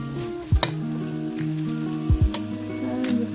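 Butternut squash and other vegetables cook down in a pot with a steady sizzle, broken by a couple of sharp clanks from stirring, while a constant tonal hum runs underneath.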